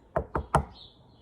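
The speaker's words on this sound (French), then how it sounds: "Le loup frappe à la porte." Three quick, evenly spaced knocks on a door, close and crisp, followed by a faint high tone.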